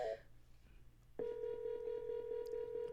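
Rhythmic electronic telephone ring, a steady pulsed tone repeating in quick bursts, loud and close after a brief quiet lead-in with faint background hum.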